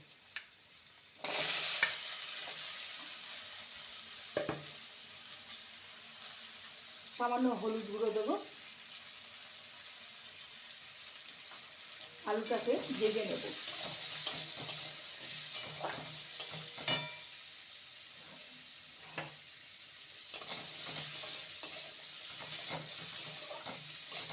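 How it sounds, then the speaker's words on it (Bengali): Two medium-sized potatoes frying in a pan, a quiet hissing sizzle broken by a few sharp clatters and scraping stirs, with brief watery bursts in between; no talking. "এবার আলুগুলো ভেজে নেব"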